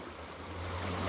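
Dirty water rushing steadily through an ITEHIL portable water filter, a constant broadband hiss and gurgle with a low hum underneath, growing slightly louder, no talking.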